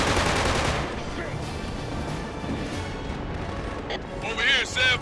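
Heavy gunfire and blasts from a Killzone 2 firefight, a loud burst of shooting up front settling into ongoing rattling combat noise, with a few sharp bursts near the end.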